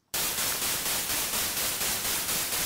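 A burst of synthesized white noise in FL Studio, volume at 30%, hisses in abruptly and repeats in rapid rhythmic pulses, each swelling and fading slightly, with no voices.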